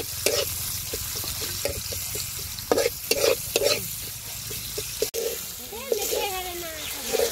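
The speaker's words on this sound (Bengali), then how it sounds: "তেলের উপরে পেঁয়াজ কাঁচা মরিচ কুচি দিয়ে দিলাম, একটু ভালো করে ভাজা নেই" Onion and green chilli sizzle steadily in hot oil while a utensil scrapes and stirs the pan in repeated strokes, with a voice talking briefly in the background.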